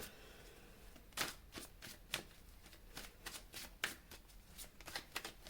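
Tarot cards being shuffled for a reading, a quiet run of crisp riffling bursts and soft slaps at an uneven pace, close to the microphone with no talking over them.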